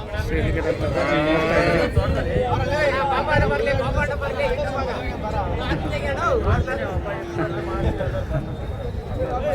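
Several calves moo repeatedly over a busy crowd of chattering voices at a cattle market in Chintamani, the bellows overlapping nearby.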